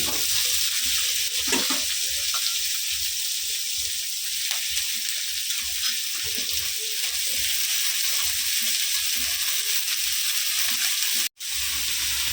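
Beans cooking in a pan with leafy greens added, a loud continuous sizzle with soft stirring and rustling textures, briefly cutting out near the end.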